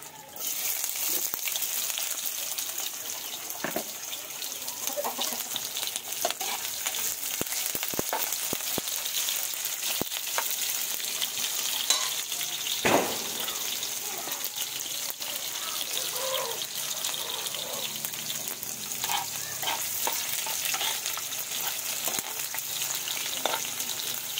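Chicken adobo sizzles and fries in a pan, a steady close crackle with occasional stirring knocks and scrapes, continuous with little talk.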